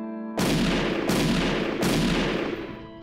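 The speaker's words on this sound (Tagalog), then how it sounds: "paputukan ito ng baril." Three loud gunshots fired at an elephant in an urban business district, each a sharp boom with a long echoing decay, spaced about seven tenths of a second apart with no talking.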